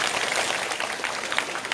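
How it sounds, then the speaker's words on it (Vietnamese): A lecture audience claps loudly and steadily in a dense, continuous burst of applause at a motivational life-skills talk, filling the whole moment with no voices on top. "Một tràng pháo tay thật lớn."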